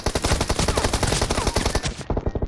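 Pistol fire in the mobile game PUBG Mobile, a loud, rapid, nearly continuous volley of close shots that stops abruptly near the end.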